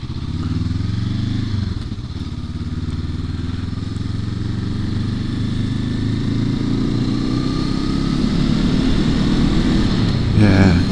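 A Honda CL500 motorcycle engine drones close by with a low, continuous rumble that climbs slightly in pitch as the revs build toward the end.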